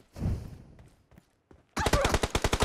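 Rapid automatic gunfire in PUBG Mobile, a fast, evenly spaced burst of about a dozen loud, close shots arriving after a soft thud and a few faint clicks.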